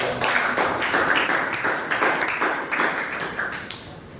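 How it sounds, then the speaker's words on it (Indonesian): A group clapping in a classroom, a brisk run of close hand claps with an irregular rhythm lasting several seconds and fading slightly toward the end. "Tepuk tangan dulu."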